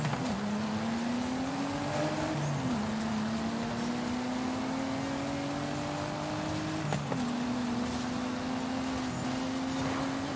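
A car engine in Forza Horizon 5 drones steadily while driving, pitch climbing gradually through each gear before dropping at two shifts, with a constant close hum and road noise throughout.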